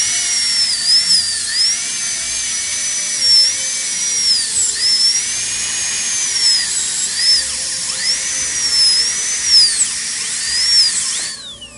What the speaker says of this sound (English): Number 2, high-speed, long shank, round burr, and this demonstrates the amount of irrigation that we need with it.